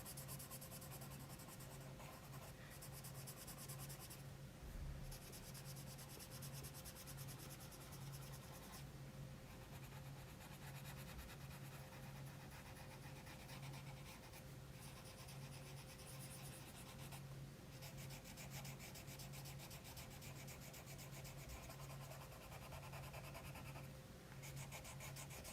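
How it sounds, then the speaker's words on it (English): A blender pencil scratches steadily across paper while blending a colouring page, a continuous close, raspy rubbing texture with brief pauses between strokes. "This blender pencil always sounds like my pressure is like insanely hard, and it's really not. It's just really scratchy."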